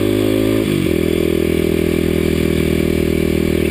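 A Kawasaki KLX250SF supermoto climbs a steep mountain road, its single-cylinder engine loud and close in a steady droning pull, with one quick gear change and wind rush throughout.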